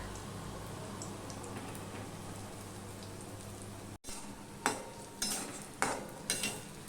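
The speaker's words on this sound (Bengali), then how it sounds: "মিডিয়ামে দিয়ে ভাজছি" Lentil fritters (bora) frying in a pan over medium heat, a soft steady sizzle that briefly drops out, then continues beneath several sharp clinks and scrapes as they are handled.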